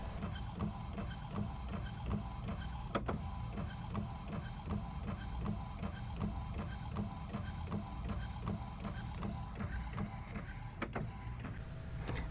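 An Epson WorkForce WF-7610 inkjet printer runs through a print job, its print head shuttling back and forth in a fast, regular mechanical rhythm with a couple of sharper clicks, fairly quiet and with no voices.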